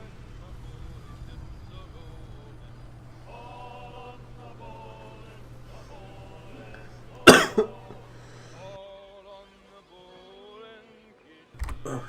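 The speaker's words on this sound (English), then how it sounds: "Sorry for that little cough there." One sharp, loud cough bursts out close to the mic, followed by a quick second hack. It cuts over quieter Assassin's Creed III boat gameplay audio with tonal, voice-like sounds, then the game continues before another loud burst near the end.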